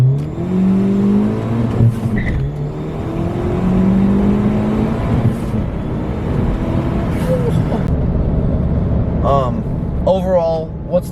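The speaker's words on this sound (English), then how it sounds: "First gear acceleration here with traction control off." A 2018 Ford Fiesta ST with a Stage 2 flash tune accelerates hard in first gear with traction control off, engine note rising loudly and continuously from the cabin, with a short shift-like change near the end.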